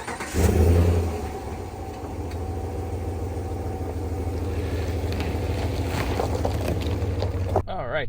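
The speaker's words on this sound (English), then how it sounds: "Let's take this Ram 1500 Limited on the road." A 2024 Ram 1500 Limited Night Edition pickup truck drives on the road with a steady low engine and road rumble, a brief louder rev at the start, heard from inside the cabin.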